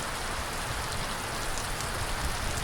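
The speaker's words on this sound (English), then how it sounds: "it's getting torrential again" Torrential rain pouring down during a thunderstorm, a dense, steady hiss of drops beating on surfaces, with no voices.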